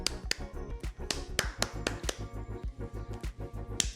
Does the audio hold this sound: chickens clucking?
no